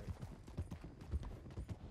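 Horse hooves clip-clop in a video game as three riders approach, a steady uneven patter of soft thuds at moderate distance with no talk over them.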